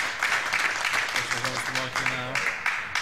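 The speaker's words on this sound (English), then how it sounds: "And a warm round of applause from his compatriots in the crowd." Crowd applause at the final of the Swedish Masters 2016 bowls tournament, a steady round of clapping from the stands heard beneath a commentator's speech.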